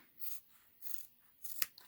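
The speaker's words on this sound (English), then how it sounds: "I'm just going to use scissors. I'm going to trim that away." Scissors trimming fabric binding, three short close snips spaced evenly, quiet and crisp, with no talk.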